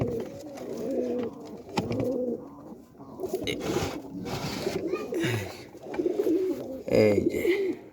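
Newly caught gola pigeons, a pair, coo nearby in low repeated throaty phrases, with some faint background noise and brief sounds mixed in.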